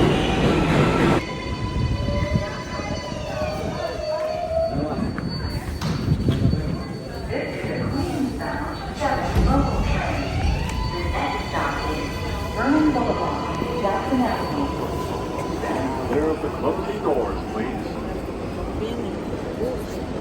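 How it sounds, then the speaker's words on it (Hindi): Subway train pulling out of a Brooklyn station, rumbling and clattering on the rails with squealing metallic tones and rising whine, loud and close, with a voice talking over it. "अब जैसे सब लोग बैठ जाएंगे, डोर्स बंद होंगे और ट्रेन जो है वो चल पड़ेगी।"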